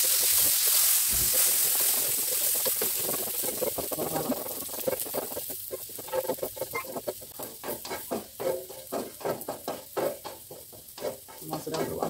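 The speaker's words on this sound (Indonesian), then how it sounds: "Saya akan menggoreng ikan asin sekarang." Salted fish fries in a little oil in a pan, a dense crackling sizzle with stirring and pattering pops that grow more rhythmic and pulsing over the course of the clip, close and steady.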